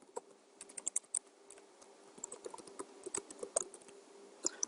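Quiet, rapid taps of a computer keyboard being typed on, uneven bursts of clicks with a faint steady hum behind.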